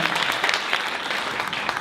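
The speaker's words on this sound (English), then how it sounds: "So a round of applause for New York City, this beautiful city that we live in." Crowd applause at a high school class reunion in New York City, a continuous, even wash of many hands clapping close by, loud and sustained with no talk over it.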